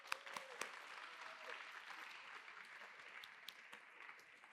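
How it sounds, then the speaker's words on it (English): Faint, steady applause from an audience at a university nursing research symposium, a soft wash of clapping with a few sharper claps near the start, lasting about four seconds. "So we'll give her a round of applause"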